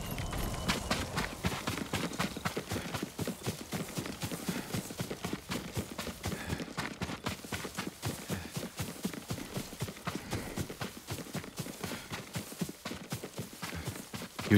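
Steady clip-clop of horse hooves at a walking pace in the video game Ghost of Tsushima, close and continuous, with a rhythmic clatter throughout.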